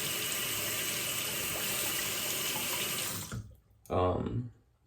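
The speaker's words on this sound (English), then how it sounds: "I'm gonna rinse this off" Water runs steadily from a bathroom tap while a safety razor is rinsed under it. The flow cuts off, then a short louder splash follows.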